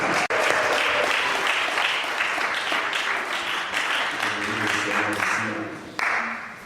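A church congregation at a seminar in Paris breaks into sustained, loud applause that fills the space for several seconds, with a few voices rising over the clapping.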